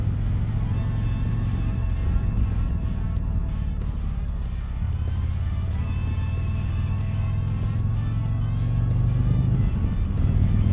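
A 2022 Harley-Davidson Road Glide ST motorcycle out on a ride, its engine a steady, loud, low rumble that carries on without a break, with wind noise over it and no talking.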